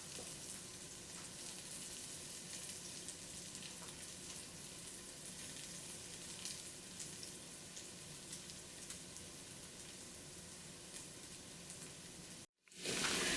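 Garlic roasting in the center of a pot for chicken and rice, a soft, steady, faint crackling sizzle that runs evenly and cuts off abruptly near the end.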